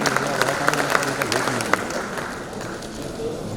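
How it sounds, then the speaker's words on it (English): An audience at a union budget seminar claps steadily through the whole short stretch, a dense and fairly loud patter of hands with a faint voice beneath it. "A huge round of applause for sir."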